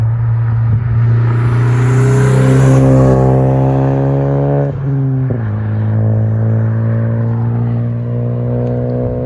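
A 10th-generation Honda Civic Si with a new aftermarket downpipe idles with a deep rumble, then revs up and settles back, loud and close, the exhaust droning steadily with no voices.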